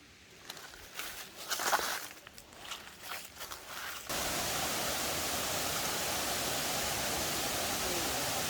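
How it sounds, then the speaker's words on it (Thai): Alongkorn waterfall in Sangkha, Surin, with footsteps and rustling for a few seconds, then a steady, loud broadband rush of falling water filling the rest of the clip. "เรามาถึงแล้วนะคะน้ำตกอลงกรนะคะ"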